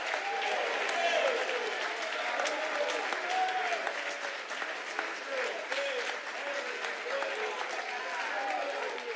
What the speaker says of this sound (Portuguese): para dar uma salva de palmas ao Senhor